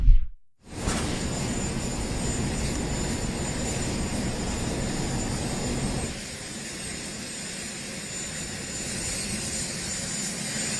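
The presidential helicopter runs outside, giving a steady, broadband engine and rotor roar with a high whine on top. It drops slightly in level partway through and stays continuous, with no talk over it.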